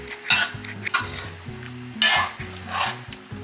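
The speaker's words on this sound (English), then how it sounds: "As you can hear, it's still cooking even though I added water because the water was hot." Curry chicken cooking in a pot after hot water was added, with a soft bubbling sizzle and a utensil stirring and clinking against the pot, close and alone.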